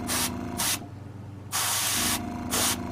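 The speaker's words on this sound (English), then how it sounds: "go over all these little white spots with an airbrush" Airbrush spraying paint over white spots on a ceramic dome repair, heard as bursts of steady, close hiss that start, stop briefly and resume in a broken rhythm.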